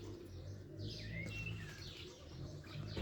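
Pigeons outdoors give soft low coos beneath scattered thin bird chirps, faint and somewhat distant over a light background hum.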